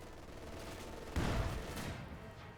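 Company of Heroes 2 battle audio: a sudden burst of gunfire and explosive impact rings out over steady ambient combat noise, then decays over the following second or so.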